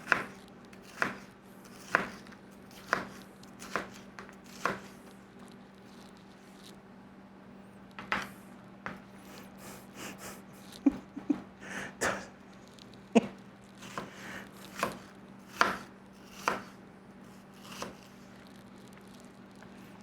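A knife slices an onion on a cutting board during home breakfast-skillet cooking: a steady run of crisp, close chops in uneven rhythm, with a faint background hum and no talking.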